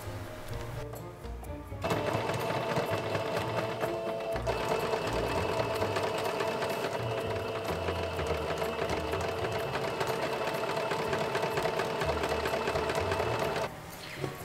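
A sewing machine stitches buttonholes on the ends of apron straps for a cosplay costume, running in one steady, loud, continuous burst for about twelve seconds after a quieter start, then stopping.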